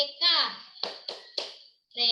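A primary school class does a teacher-led rhythmic hand-clapping chant during a civics lesson, with bursts of claps mixed with children's and adult voices, then a brief pause before the voices resume.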